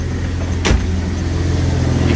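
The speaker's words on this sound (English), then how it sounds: "that manifold leak really bad, so definitely have to get that fixed" Ford Falcon drift car engine with a badly leaking exhaust manifold, running steadily with a loud, close, rough idle rumble and a brief burst of hiss partway through.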